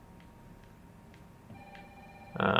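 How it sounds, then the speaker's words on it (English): A telephone ringing inside an apartment in the video game Resident Evil 3 Remake, a loud electronic ring that starts abruptly at the end after quiet game ambience with faint ticks. "So let's just go answer the phone."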